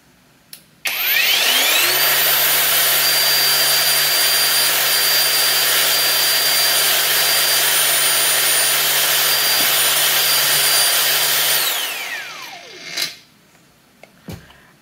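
A battery-powered cutting machine spins up to maximum RPM with a loud, steady high-pitched whine, holds it for about ten seconds, then winds down and stops, followed by a few faint clicks.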